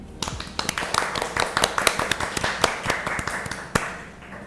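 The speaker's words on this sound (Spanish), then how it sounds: "Recibámosla con un fuerte aplauso." A studio audience on a Spanish-language health talk show claps to welcome a guest onto the set: scattered, uneven hand claps of moderate loudness with a few sharper individual claps, fairly close.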